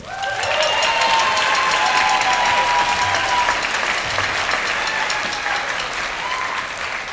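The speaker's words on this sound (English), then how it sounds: "How about another round of applause for all of our Skyline bands?" A high school holiday concert audience applauding its bands, dense sustained clapping filling the hall from start to finish with faint cheers.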